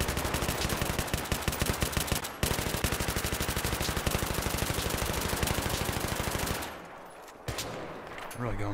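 Sustained machine gun fire in the video game Battlefield 3 rattles on loud and close in rapid continuous rounds, breaks off briefly near the end, then resumes.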